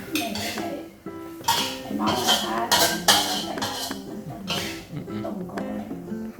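Cooked food being scooped onto a plate with repeated clinks and scrapes of a utensil against dishware, close and fairly loud, with people talking and background voices throughout.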